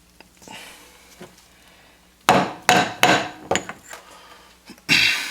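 Hammer tapping a socket to drive a part onto a Yamaha YXZ 1000R axle, several sharp metallic knocks in a quick irregular series, close and loud, preceded by faint handling noise.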